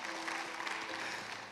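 Steady applause from a church congregation during a service, many hands clapping at once, moderately distant and fairly even for the short stretch.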